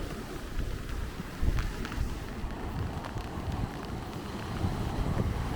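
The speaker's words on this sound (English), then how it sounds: "it sure is a blustery day at the cove" Gusty wind at a cove by a pond buffets the microphone with a low, rumbling roar that rises and falls, steady throughout with no voices.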